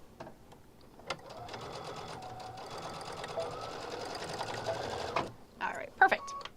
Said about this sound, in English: I'm just going to kind of back stitch a little bit